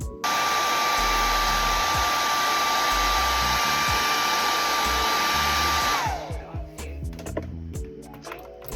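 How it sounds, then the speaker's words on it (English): A hair dryer blows loudly and steadily at close range on a deep wave wig, then is switched off near the end, its whine dropping away into quieter handling sounds. "I actually am going to go ahead back in with the blow dryer, make sure it's dry completely"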